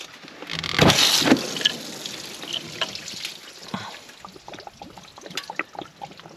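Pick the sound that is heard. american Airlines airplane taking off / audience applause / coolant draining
coolant draining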